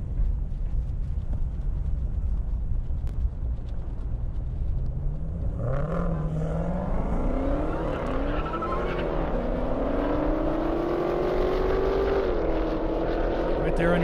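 Drag racing cars at an airstrip event: a loud, continuous engine roar from launch, rising in pitch through gear changes as the car pulls away, under a commentator's voice.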